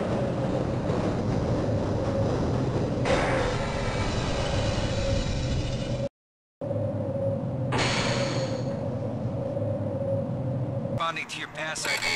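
A rail car rolls steadily in Half-Life: Blue Shift, with a continuous close rumble and rattling hum that cuts out briefly, then resumes before ending in a shifting mechanical whine.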